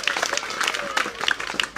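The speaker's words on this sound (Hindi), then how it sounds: "आप लोग ज़ोरदार तालियों से" Audience applause greets a prize winner at a coaching-institute prize distribution ceremony, a burst of scattered hand claps lasting under two seconds, with a voice over the clapping.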